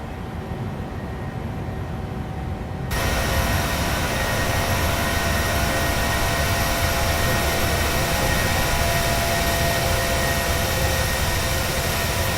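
A Ryanair Boeing 737-800 in Microsoft Flight Simulator rolls for takeoff, its jet engines spooling up from a quieter hum to a loud, dense, sustained roar that holds steady to the end.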